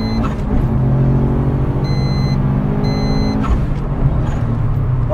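A prepared Subaru Impreza WRX with a front-mounted intercooler accelerates hard through its gears, a loud, steady close engine drone with brief shift breaks and no talk over it.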